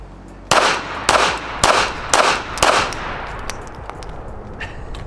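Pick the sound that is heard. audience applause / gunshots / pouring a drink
gunshots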